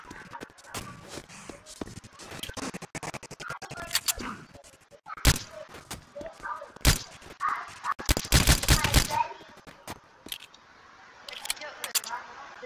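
Rapid bursts of gunfire in the video game Apocalypse Rising 2, sharp cracks and short automatic strings scattered irregularly, some loud and near, others fainter, with players talking over them.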